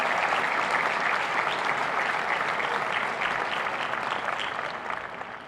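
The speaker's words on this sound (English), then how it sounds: "Please join me in giving them a round of applause" Audience applause at a university graduation ceremony, sustained, dense clapping from a large crowd that holds steady and then begins to thin and fade toward the end, with no voices over it.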